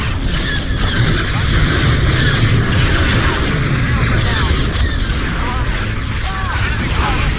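Starship weapons fire and explosions in the Star Wars Empire at War space battle game, a dense, loud, continuous wash of laser blasts, rumbling booms and whooshing effects, overlaid with radio-style unit voice lines.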